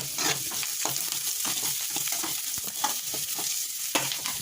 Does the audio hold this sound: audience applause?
no